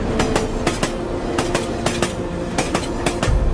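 An Indian Railways train rolls through Howrah Station with loud, continuous rhythmic clickety-clack of wheels over rail joints and a steady rumbling bed of noise underneath.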